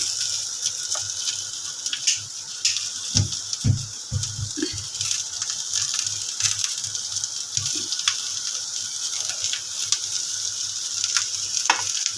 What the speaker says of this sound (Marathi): कांदा चांगलं लाल होईपर्यंत परतून घ्यायचं